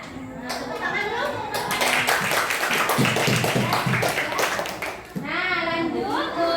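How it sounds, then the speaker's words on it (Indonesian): A classroom of students claps together for a few seconds, the hand claps blending with children's voices and a teacher's talk. "Nah, tepuk tangan dulu."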